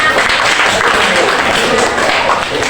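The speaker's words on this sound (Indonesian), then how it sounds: "Tepuk tangan untuk kita semua" Applause from students in a history classroom, a loud continuous patter of many hands clapping throughout, with voices mixed into the clapping.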